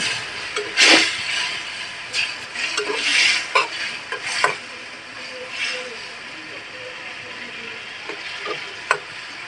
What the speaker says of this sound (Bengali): এই শিং মাছগুলো দিয়ে দিব সেই মাছগুলো একটু কষাই নেই